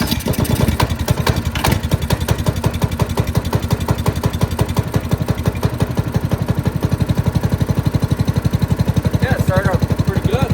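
A 2002 Manco Dominator go-kart's small engine fires on the first pull from cold and settles into a steady, loud, close-up chugging run, its rapid regular firing pulses continuing throughout with no talk.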